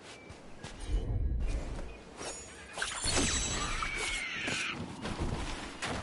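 Crows caw in the Dragon Age: The Veilguard game world, several harsh calls rising over soft ambient rustling and a few footsteps, moderately close.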